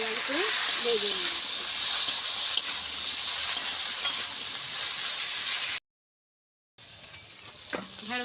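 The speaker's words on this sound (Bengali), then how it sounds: "ভালো করে আমি লাল লাল করে ভেজে নিই।" Okra sizzling and frying in a pan, a steady bright hiss throughout with faint stirring clinks, briefly cut out near the end before the sizzle resumes.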